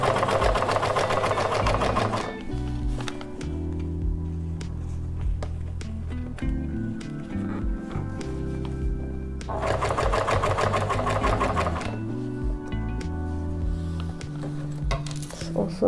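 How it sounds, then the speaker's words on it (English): A sewing machine back-stitches and sews a one-inch seam allowance on a lapped fly front zipper, running in steady bursts with a pause in the middle, close and fairly loud. "So over to back stitch, and I will just sew at that 1 inch seam allowance."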